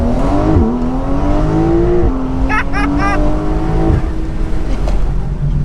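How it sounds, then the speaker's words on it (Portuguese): Close, loud roar of a turbocharged, downsized engine in an open-top 2019-era Porsche 911 Carrera S Cabriolet (992) as it accelerates and shifts, with a brief voice heard over the engine. "eu não acho o ronco desse motor extremamente melódico"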